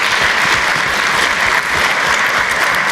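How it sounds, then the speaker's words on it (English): Full audience applause at an entrepreneurship competition launch event, a thick, even wash of many hands clapping that holds steady for the whole stretch. "Big round of applause for those folks."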